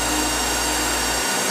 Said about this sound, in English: What you hear in the background is the hot air blower.